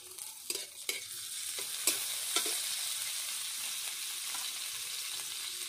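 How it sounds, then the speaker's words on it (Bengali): Onion and garlic paste sizzling steadily in a hot pan, with a few sharp stirring scrapes early on over a continuous close frying hiss. "পেঁয়াজটা ভালোভাবে ভাজা হয়ে গেছে, এবার এর মধ্যে অর্ধেক চামচ রসুন বাটা দিয়ে দিলাম"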